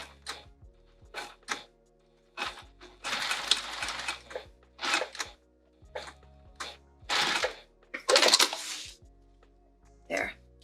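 Sewing machine stitching across the end of a fabric sling, in several short bursts of rapid mechanical whirring separated by pauses, close and moderately loud, with a couple of longer runs.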